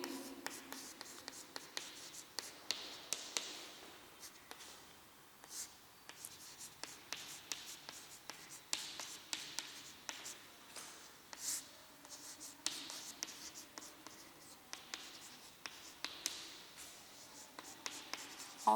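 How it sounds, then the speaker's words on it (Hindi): Handwriting with a pen on paper, a steady run of faint scratchy strokes with brief pauses, heard close and quiet over a long stretch. "देखो मैं यहाँ पे विषय लिख रही हूँ"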